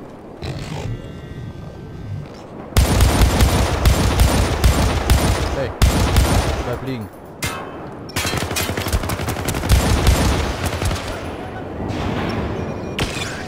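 Gunfire in the video game Syndicate, loud bursts of rapid automatic shots in two long volleys separated by a short lull, close and dense.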